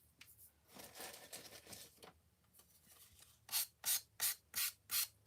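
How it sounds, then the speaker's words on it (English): Sandpaper rubs the edges of a wooden piece finished with a rub-on transfer. Soft scuffing comes first, then six strong rhythmic back-and-forth strokes, close and otherwise quiet. "I'm going to sand it so it's all the way"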